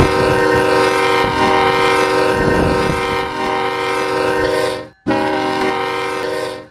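Loud sustained multi-chime horn of a BNSF freight train in a Roblox railroad game, blaring steadily for several seconds with rumbling underneath, dropping out briefly and then resuming.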